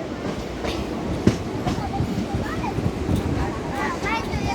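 A nearly empty Porbandar–Rajkot daily passenger train runs along, heard from inside as a steady clickety-clack and rumble of wagons with faint wheel squeals, loud and continuous.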